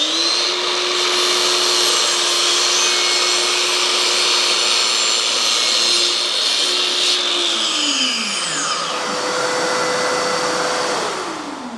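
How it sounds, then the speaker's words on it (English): EGO cordless vacuum switched to turbo suction while pulling sawdust through a saw, a loud steady whining motor that holds a constant tone, then winds down in pitch near the end. "Then I'm going to hit the turbo to give it a little more. I can already hear more suction coming through the saw itself."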